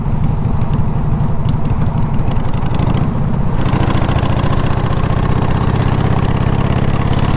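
A chopper motorcycle engine revs loudly and close, a rough pulsing throb that rises then settles into a steady, heavier rumble, with no voices.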